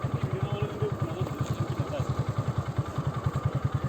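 A motorcycle engine idles close by with a steady, rhythmic thumping pulse, each beat evenly spaced, running on throughout amid faint outdoor background.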